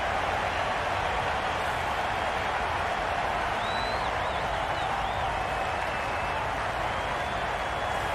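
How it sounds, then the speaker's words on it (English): A stadium crowd in the cricket video game Cricket 22 during an India versus Sri Lanka T20 match, heard as a dense, steady roar of cheering and clapping with faint whistles that continues unbroken and loud throughout. "the crowd have joined the party. It's pretty noisy in the ground"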